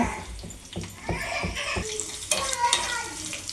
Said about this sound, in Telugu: ఇప్పుడు పోపు వేగిపోయింది పప్పుని పోపులో వేసుకోవాలన్నమాట